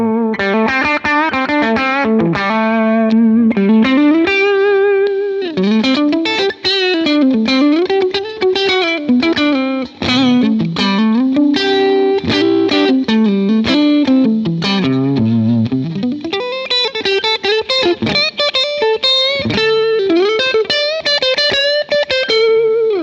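Distorted electric guitar on the neck humbucker pickup plays a continuous run of notes and chords with a warm, rounded tone and a touch of chorus.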